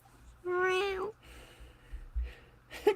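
A human voice imitates a cat, giving one drawn-out wavering meow, followed by a couple of short, quieter vocal sounds in a low-level room.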